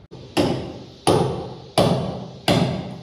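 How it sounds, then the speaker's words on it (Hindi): A hammer knocks four times in a slow, even rhythm, each blow a sharp, loud thud that rings briefly and fades before the next. "आज ना हथौड़े से ठक ठक करे जा रहे हैं"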